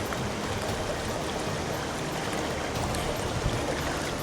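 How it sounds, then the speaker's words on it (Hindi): Ice-cold, clear mountain stream water in Leukerbad, Switzerland rushes loudly and steadily around someone wading through it, a constant close wash without voices. "मैं अब इस स्ट्रीम में चलना शुरू हो गया हूँ और काफ़ी ठंडा पानी है"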